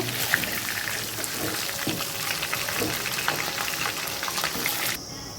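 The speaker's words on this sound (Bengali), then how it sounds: "মাংসগুলোও ভাজা হয়ে গেল" Pieces of meat fry in oil with a dense, crackling sizzle and bubbling close by, punctuated by occasional soft knocks from stirring, before the sound cuts down sharply at the very end.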